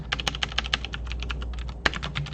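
Quick, close run of computer keyboard keystrokes entering a command at a command prompt, a dozen or more crisp clicks in an uneven rhythm with one heavier key strike near the end, no voices.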